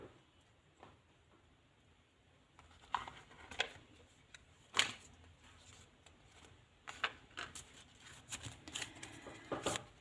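Tarot cards shuffled and drawn by hand during a Gupt Navratri reading, with soft riffling and sharp slapping card snaps in scattered bursts, fairly close and quiet, with no talking.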